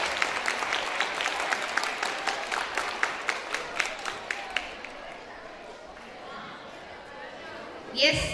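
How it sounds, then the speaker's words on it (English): Audience at a school cultural event claps, sharp individual claps rising over a crowd for about four seconds, then fading into murmuring chatter with a brief clatter near the end. "Let's give them a huge round of applause."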